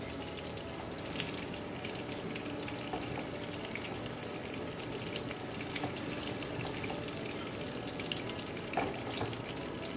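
Boiled penne pasta water draining, a steady rushing, bubbly pour of water with small splashes and a brief clunk near the end, close by with no talking.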